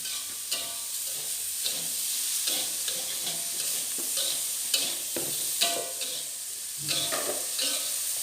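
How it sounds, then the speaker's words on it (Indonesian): Tofu stir-fry with chicken stock is stirred in a hot pan, a steady sizzle of frying running throughout with repeated scraping strokes of the spatula, close and fairly loud, no voices. "Lanjut diaduk lagi supaya merata rasa asinnya."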